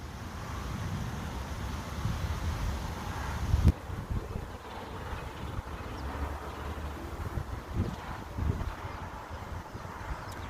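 Wind blows steadily outdoors in a park, a low, constant rumble buffeting the microphone. Faint rustling comes and goes in the background, and no voices are heard.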